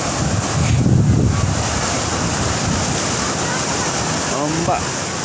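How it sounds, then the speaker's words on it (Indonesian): Steady roar of ocean surf at a beach, Pantai Sasak, with wind buffeting the microphone, a low rumble swelling early on, and faint voices in the background. "Ombak."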